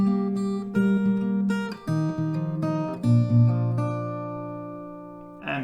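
Sustained plucked chords ring on an acoustic guitar, sounding alone and close, with notes overlapping and shifting every second or so and a brief bright strum near the end.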